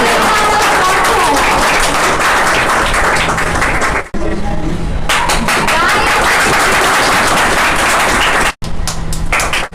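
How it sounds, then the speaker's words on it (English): Loud, dense clapping from a crowd at a monthly workplace rewards and recognition ceremony, sustained and close, broken by a couple of abrupt cuts. "big round of applause for Harshil"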